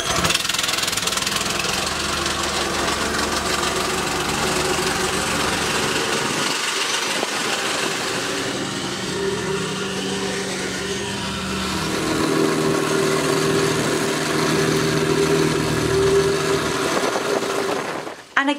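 A plate compactor engine used on a gravel driveway runs with a steady, loud mechanical chugging drone. It dips briefly midway, then carries on before cutting off abruptly at the end.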